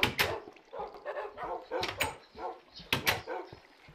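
Pet wolf puppies in a video game yip and bark in short, repeated bursts close by. Several bright sharp barks stand out amid softer scuffling in the background.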